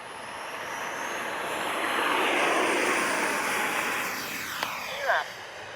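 A twin 64mm electric ducted fan RC model F-15 jet takes off with flaps down, a steady whooshing fan whine swelling and then easing as it climbs away, heard in the open without voices.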